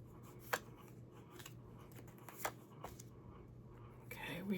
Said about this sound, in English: And let me just pull some cards.